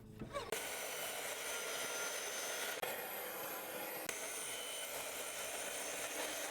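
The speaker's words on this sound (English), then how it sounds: "We're going to start by breaking down these 2x4s at the miter saw." A miter saw slices through 2x4 lumber with a loud, steady, roaring whine that runs without a break for about six seconds after a short start, close by, with no voices.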